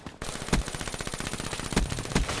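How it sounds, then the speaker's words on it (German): Rapid submachine gun fire in the video game Black Ops 3, a dense automatic stream of shots with a few louder bursts standing out, close and loud throughout. "Es ist eine fucking MP."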